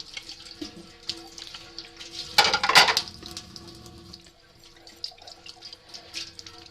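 Plates are being washed under a running kitchen tap, with a steady stream of water and the light clink of dishes. A brief louder gush and splash comes midway, then the water settles back to a steady flow.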